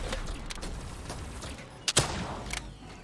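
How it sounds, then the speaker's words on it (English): Gunfire in the Call of Duty Black Ops III campaign, a few scattered shots over a low game backdrop, with one sharper burst near the middle. "Alright, just let me shoot."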